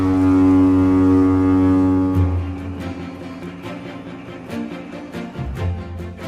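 A lighthouse foghorn sounds a loud, deep, steady tone rich in harmonics for about two seconds, then cuts off, leaving scattered clattering sounds.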